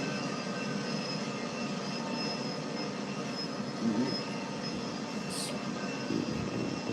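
Train slowing down in Train Sim World 2020 on the GWE line: a steady, continuous rumble of wheels and engine drone with faint squeals, fairly loud and unbroken.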